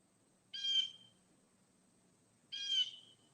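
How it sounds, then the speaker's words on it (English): Two short bright bird calls about two seconds apart, each a brief harmonic burst, fairly clear over a quiet background hum with no talking. "I hear a bird."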